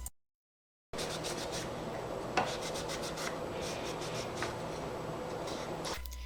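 Continuous close rubbing and rasping over a wooden doll stand being sanded, steady strokes after a short silence at the start, with no talking.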